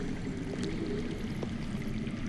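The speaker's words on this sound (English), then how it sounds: "That's water. I hear water." Underground water flows in a steady, pouring trickle, a constant moderate rush with faint scattered drips on top and no voices.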